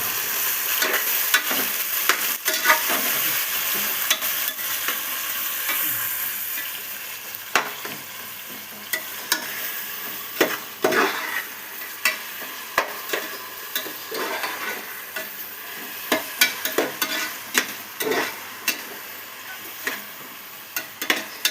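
Onions sautéing in oil and ghee in a pressure cooker for seeraga samba chicken biryani, with a steady bright sizzle and many quick scraping strokes of a ladle against the metal, close and with no voices.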